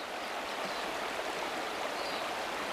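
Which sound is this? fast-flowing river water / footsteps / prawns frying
fast-flowing river water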